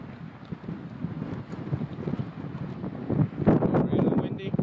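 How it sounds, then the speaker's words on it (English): Strong gusty wind rising ahead of a haboob dust storm on the west side of Phoenix, Arizona, rumbling and buffeting the microphone in uneven surges that grow louder over the last seconds. "so it just got really windy right now"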